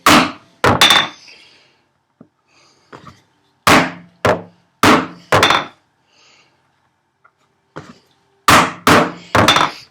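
A chisel chops housing dados into wood for a workbench, giving loud, close mallet strikes in clusters of two to four sharp thunks, separated by quiet pauses and occasional faint taps.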